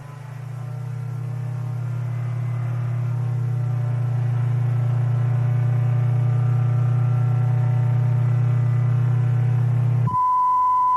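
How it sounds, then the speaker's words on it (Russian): A steady low hum for about ten seconds abruptly gives way to a pure, continuous 1 kHz tone near the end, used to illustrate a vehicle noise-and-vibration frequency. "Если частота увеличится до 1 кГц, вы услышите вот такой звук."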